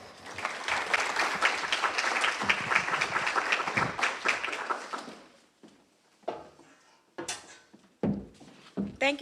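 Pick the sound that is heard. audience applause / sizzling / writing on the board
audience applause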